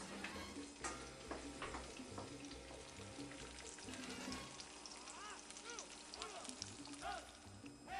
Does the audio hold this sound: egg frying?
yes